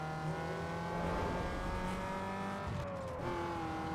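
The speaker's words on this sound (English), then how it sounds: "This car sounds absolute awful" A car engine in the video game Need for Speed: Underground 2 drones and revs steadily with a buzzy, harmonic tone, pitch shifting slightly as it accelerates, with no talking.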